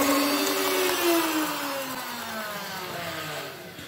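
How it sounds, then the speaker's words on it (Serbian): An electric hand mixer kneading dough for crisp savory oregano breadsticks, a steady motor whine that slowly drops in pitch as it strains, continuous and close with no talking. "mikserom sam mešao nekih 7 do 8 minuta, to je dovoljno"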